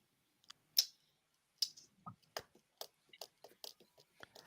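Keyboard typing comes as sparse, quiet clicks and taps in an irregular rhythm, with short gaps between the keystrokes.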